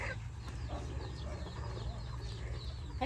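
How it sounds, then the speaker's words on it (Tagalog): Several chickens cluck and call in a farmyard near a vegetable garden, with short scattered clucks over a steady low background rumble, no talk. "Dami niya pang manok oh."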